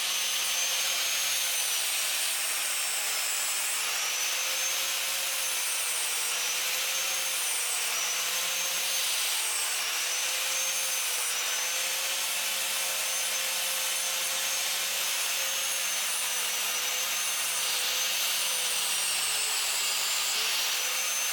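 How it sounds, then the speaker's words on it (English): Continuous sanding drones steadily throughout, a loud even grinding hiss with a slowly wavering motor whine and no pauses. "there's noise going on everywhere. We've got bloody Nanny out there sanding"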